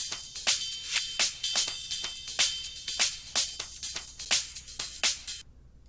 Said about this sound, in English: this ride part, which by the way sounds like this unchopped.